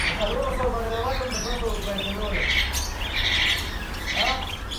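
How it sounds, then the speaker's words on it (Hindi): Small Australian budgerigar parrots squawking and chirping at a bird market in Swabi, with bright overlapping calls over a constant low rumble of crowd noise, close and fairly loud. "ये बजीज पैरट से ऑस्ट्रेलियन जो होते हैं, जो स्मॉल पैरट्स होते हैं"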